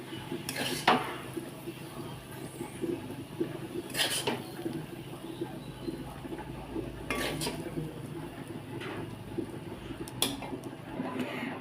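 Metal utensils scraping and clinking against a pan as cabbage and potato curry is served onto a plate, a few sharp scrapes and knocks spaced several seconds apart over low kitchen background.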